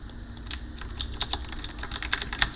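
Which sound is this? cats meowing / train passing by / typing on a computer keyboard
typing on a computer keyboard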